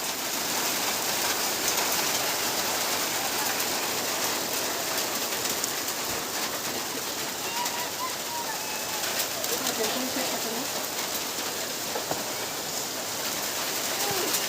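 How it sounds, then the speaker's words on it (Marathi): Steady rain falls in a village during hot weather, a dense continuous patter that holds at an even level throughout, with faint voices and other background sounds mixed in. "गरम खूप होतच होता दोन तीन दिवस त्यामुळे पाऊस आला"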